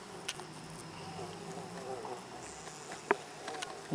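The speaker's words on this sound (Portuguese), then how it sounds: "Muito bonita, é uma abelha muito dócil, muito calma, muito mansa." Guaraipo stingless bees hum steadily around their hive with a feeding pot, a close, continuous soft buzz with a few brief clicks and a sharp tap near the end.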